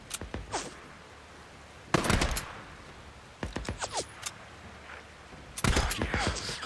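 Gunfire in the game Days Gone: several separated bursts of sharp, loud shots in quick clusters, with quieter gaps of ambient noise between them and no talking.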